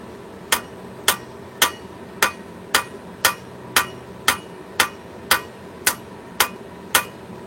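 Hammer blows on a metal workpiece at a forge, about a dozen sharp, evenly spaced strikes roughly every half second, loud and close with a faint ringing background.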